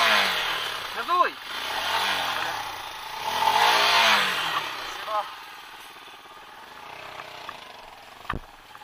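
A Minsk X250 motorcycle engine revs in several surges with a steady background roar, sounding fairly close; someone speaks briefly over it.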